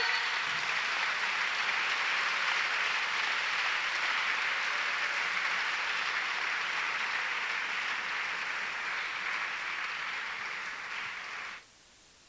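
Sustained applause from a church congregation, a steady dense wash of many hands clapping at an even level, tapering slightly before cutting off abruptly near the end.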